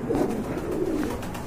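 A pair of pigeons at a bird seller's stall give low, throaty coos in a continuous burbling murmur, close by, with faint background noise and no talking.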